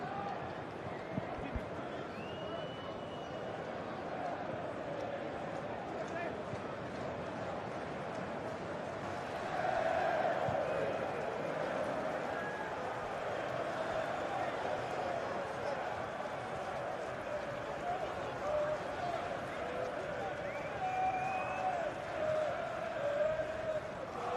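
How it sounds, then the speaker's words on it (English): A large football stadium crowd at a Chelsea vs AC Milan match hums and swells steadily in the background, rising into a louder surge midway, while a commentator talks over it throughout. "You can hear what the crowd wants him to do."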